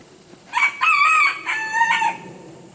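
On an off-grid forest homestead, a rooster crows close by in one drawn-out, wavering call with clucking hens around it, loud and clear against a quiet backdrop.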